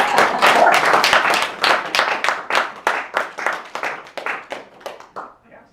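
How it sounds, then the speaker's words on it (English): An audience at a bookstore author event claps for the author, a lively burst of applause from a modest crowd that thins into scattered, slowing claps and dies away near the end. "May we applaud you first?"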